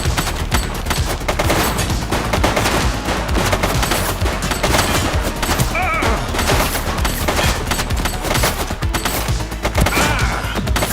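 Dense, sustained automatic gunfire and rapid shots fill the whole stretch in the police video game The Precinct, loud and continuous with overlapping bursts and no speech.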